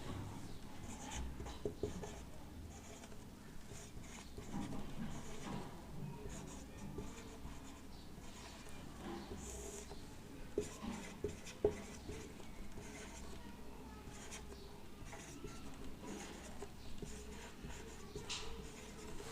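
A teacher writes trigonometry ratios on a classroom board, producing continuous faint scratchy strokes with occasional small taps, heard at a distance with no speech over it.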